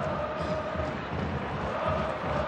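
A large stadium crowd at a Japan versus China football match in Kobe roars and cheers as Kazuyoshi Miura comes on, a dense, steady wall of distant cheering with no let-up.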